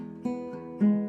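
Plucked acoustic guitar notes from a worship song tutorial, the same note struck again after the pinky lifts off, three clear plucks in quick succession, close and alone.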